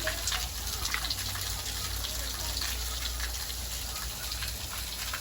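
An outdoor shower sprays water onto a dog among rice fields in Sri Lanka, a loud, continuous hiss of spray that holds steady throughout, with faint voices behind it.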